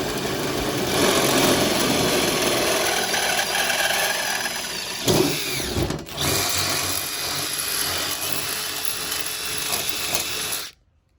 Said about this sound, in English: we're gonna drill that out just a little further